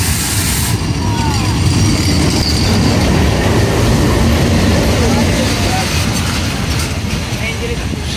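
The Titumir passenger train, hauled by a WDM 3D 65-series diesel locomotive, rumbles past loud and close in a continuous roar of wheels and carriages, with faint squeals and people talking over it.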